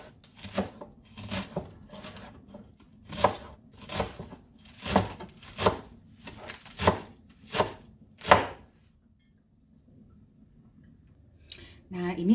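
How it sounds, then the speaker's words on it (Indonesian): Endive is chopped into small pieces on a board, about a dozen crisp knife strikes in an uneven rhythm, close and clear, then a quiet pause before a brief later sound. "Dipotong kecil-kecil."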